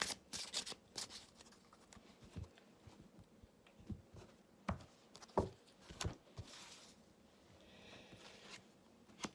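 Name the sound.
oracle cards being drawn from a deck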